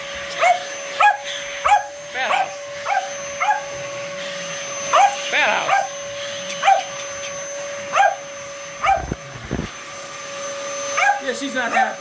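A Shetland sheepdog barks and yips repeatedly in short bursts beside a steadily droning vacuum cleaner indoors, the barks coming every second or so, close and loud.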